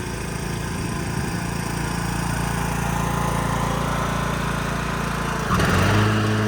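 A push lawn mower runs steadily in a front yard, its engine droning close and loud throughout, then revving up sharply near the end.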